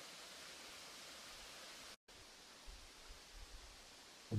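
A small waterfall on the Drochon stream in Houlgate, Calvados, gives a steady, soft hiss of falling water, briefly cut off partway through, with a few low thumps later on.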